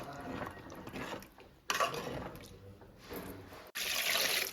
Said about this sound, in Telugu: వంచేసుకొని మళ్ళీ మనం వేరే నీళ్ళు పోసేసుకోవాలి